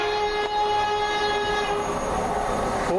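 A train rolls steadily past close by at Dorridge station, arriving to terminate, its engine droning with sustained horn-like tones throughout, no voices.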